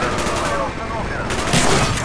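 Heavy gunfire in a Call of Duty: Black Ops prison-break battle at Vorkuta, a loud dense barrage of overlapping shots and rattling bursts with shouting voices mixed into the chaos.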